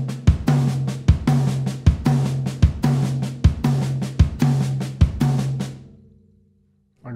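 A drum set playing a repeating four-note group of right hand, left hand, left hand and kick drum, crisp evenly spaced strokes with a deep low thump cycling several times, then ringing out into silence.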